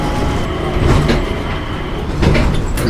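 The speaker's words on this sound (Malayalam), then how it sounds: "സിംഗപ്പൂർ സ്കൈ ട്രെയിനിലാണ് കേട്ടോ നമ്മളുള്ളത്" The Singapore airport Skytrain runs steadily toward Terminal 1 with a continuous rumble and rolling wheel noise, loud and close, like riding inside the carriage.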